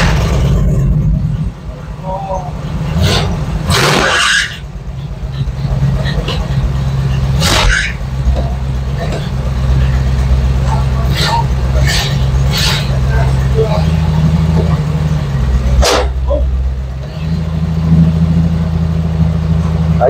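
A Bombardier snowmobile engine runs at a low, steady idling rumble throughout, with a few sharp clanks and knocks. People talk close by over the engine noise.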